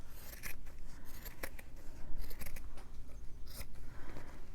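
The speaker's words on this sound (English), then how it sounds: "so now I'm going to cut this" Scissors cutting through material for a handmade journal cover, a series of crisp snips in irregular rhythm, close and fairly clear with faint rustling between cuts.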